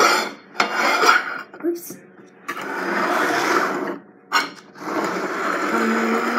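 Plates shuffled around on a table clatter and clink in short bursts, with people talking nearby.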